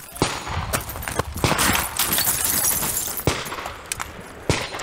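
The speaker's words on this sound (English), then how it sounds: "The rifle shooting on this stage is frankly trivial for me." Rifle shots fired at targets on a woodland competition stage, a string of sharp cracks at irregular intervals over a continuous noisy outdoor background, with a few louder close reports.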